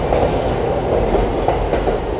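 A JR Tokaido Line local train at Odawara Station rumbles steadily close by, a continuous low roar with faint rhythmic clatter throughout and no voices.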